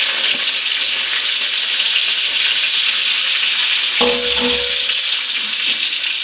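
Cinnamon, cloves, coriander and curry leaves sautéing in hot oil for a kurma, a loud, constant sizzle with a brief spatter and clink about two-thirds through.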